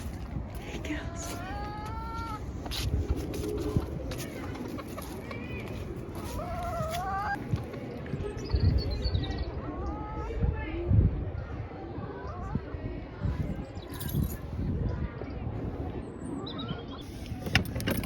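Hens cluck and murmur close by in a garden plot, with repeated rising calls over a busy outdoor background while a person talks to them.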